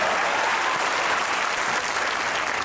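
Steady, dense audience applause from a crowd at a talk-show interview, loud and continuous throughout with no voices breaking through.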